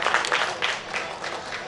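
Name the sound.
audience applause for poet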